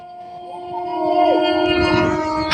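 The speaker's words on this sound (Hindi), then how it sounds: "सामने से आ रही है ट्रेन नंबर 12004 न्यू दिल्ली से चलकर लखनऊ को पहुंचने वाली न्यू दिल्ली लखनऊ स्वर्ण शताब्दी एक्सप्रेस" Swarna Shatabdi Express from New Delhi to Lucknow, an Indian passenger train, approaching with a sustained horn blast that grows louder as it nears, ending in a rush of passing carriages.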